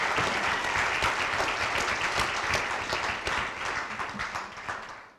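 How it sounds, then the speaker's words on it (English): An audience claps in a full, sustained burst of applause that holds strong for several seconds, then thins and fades away at the end. "So please, just a special round of applause for Dan."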